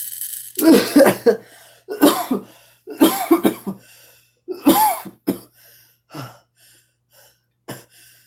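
A person coughs in several harsh bursts, with short pauses and breaths between them, close to the microphone.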